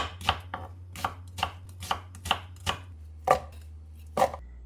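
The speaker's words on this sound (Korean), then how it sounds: "양파 작은 거 하나입니다. 이것도 이렇게 갈아주세요." A small onion is worked down for a scallion kimchi seasoning in a series of about nine evenly spaced, crisp strokes, close and fairly loud over a steady low hum, with no talking.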